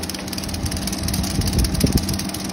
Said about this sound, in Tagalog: So ito ngayon, tinetesting na yung aircon na nabili natin.